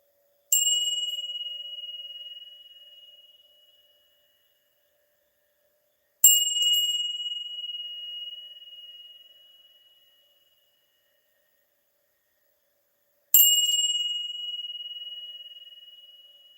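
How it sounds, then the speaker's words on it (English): Three strikes of a prayer bell ring out, each with a bright metallic attack and a long clear tone that slowly fades into silence. The strikes come several seconds apart. "If you ring a bell,"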